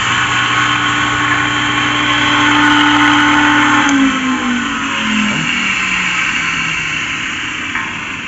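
An industrial blender with worn bearings gives a steady, loud mechanical whine and motor drone throughout, with a high harmonic hum and a pitch that slides downward midway.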